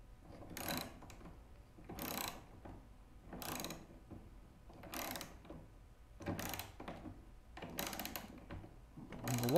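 A ratchet turns a long socket on a rolling cabinet base, seven evenly spaced bursts of clicking about every second and a half, close and fairly quiet with nothing else around.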